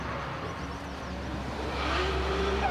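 Several sports cars, among them a McLaren F1 and a four-wheel-drive Esprit, pull away from a standing grid start on a race track, a dense, rising engine roar with a faint tire squeal near the end.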